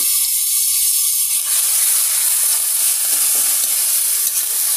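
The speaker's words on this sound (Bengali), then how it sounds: "মশলাটা ভালো করে ভেজে নিই" Ground cumin, onion, and ginger-garlic paste sizzling and frying in a pan, a steady, loud hiss that continues without pause and without speech.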